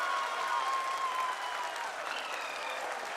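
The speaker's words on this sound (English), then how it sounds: "People are applauding." A crowd applauds in a mission control room during the live Chandrayaan-3 Vikram lander soft landing broadcast, steady sustained clapping throughout, with faint tonal whistles or cheers rising over the dense claps.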